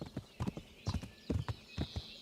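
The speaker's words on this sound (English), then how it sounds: "my horse is totally following the path all by itself right now" A horse's hooves clip-clop steadily on a path in the medieval video game Kingdom Come: Deliverance, an even walking rhythm of close, clear hoofbeats.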